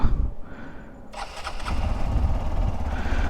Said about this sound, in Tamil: நம்ம பைக்கை வந்து வார்ம் அப் விட்டுறலாம்